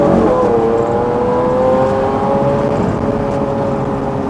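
A Lamborghini Aventador engine hums at a steady, loud drone with a slowly falling pitch, heard from inside the car with no one talking.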